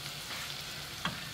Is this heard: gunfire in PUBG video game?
no